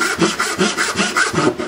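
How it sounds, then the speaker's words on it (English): A hand saw cuts a lap joint in wood, its strokes rasping in a steady back-and-forth rhythm of about five strokes in under two seconds, close and fairly loud with no talk. "my saw kerf will now want to track from this corner down to my baseline over here"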